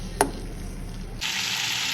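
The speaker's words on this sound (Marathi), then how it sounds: "आपण हे बटर विरघळून घेऊया." Butter melting into a tablespoon of oil for paneer butter masala gives a steady close sizzle that jumps louder and brighter partway through, with one sharp tap near the start and no talk.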